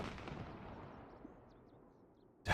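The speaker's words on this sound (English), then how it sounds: "You heard that freaking explosion?" In the zombie survival game Project Zomboid, a distant explosion's deep rumble rolls out and slowly decays, faint and alone, before a sharp burst cuts in at the very end.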